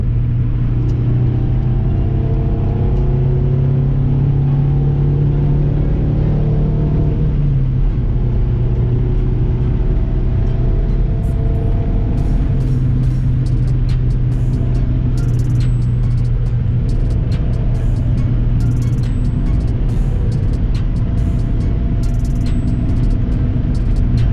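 A 1991 Toyota MR2 SW20 pulls in fifth gear from about 90 km/h, its engine droning steadily inside the cabin with a gradual rise in pitch under continuous road rumble.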